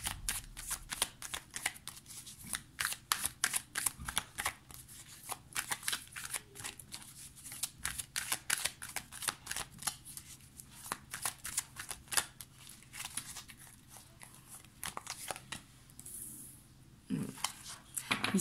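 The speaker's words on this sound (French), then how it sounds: "Je vais tirer 5 cartes." A deck of tarot-style cards is shuffled continuously at close range, a rapid series of crisp riffling snaps and flutters lasting throughout, with a soft rustle near the end and no talking.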